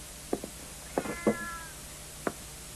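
Several short cat meows from a 1946 film, spread over about three seconds, fairly close and clear against quiet film background hiss, with one longer, drawn-out call in the middle.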